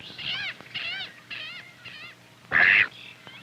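A mallard duck near a cattail marsh gives a series of nasal quacks, four or five evenly spaced calls followed by one louder, harsher quack, fairly close with light background noise.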